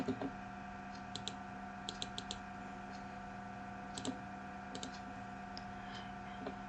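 Quiet typing on a computer keyboard during an Excel tutorial, several short bursts of crisp key clicks separated by pauses over a steady background hum.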